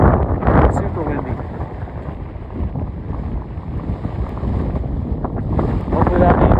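Strong wind buffets the microphone on a ski slope at Loveland ski area in Colorado, a loud continuous low rumble with gusts swelling and easing throughout, with a voice in the background.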